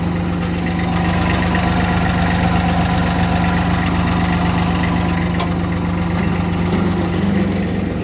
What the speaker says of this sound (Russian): Давайте послушаем двигатель.